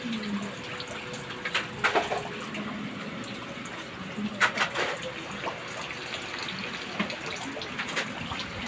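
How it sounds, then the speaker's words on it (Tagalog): Rain falls on a rainy day during Typhoon Kristine, with a continuous watery patter and a few louder splashing drips and trickles close by. "It's rainy day."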